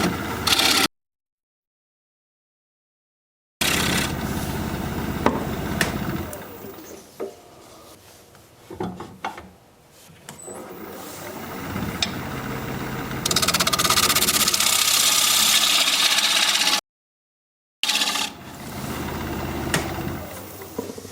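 A wood lathe turns a live edge alder bowl, its motor humming under intermittent scraping and cutting sounds, broken by stretches of silence and shifting in loudness as the tool works.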